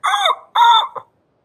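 A human voice imitates an owl's hoot, giving two drawn-out, wavering calls followed by a short clipped note. The calls are loud and close, with silence after.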